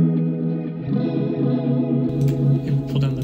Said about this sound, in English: To the reverb with the shimmer.